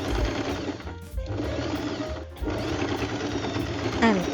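Sewing machine top stitching a fabric strap along a sleeveless armhole, a loud, close, continuous mechanical whir with rapid needle chatter, briefly pausing twice before running on.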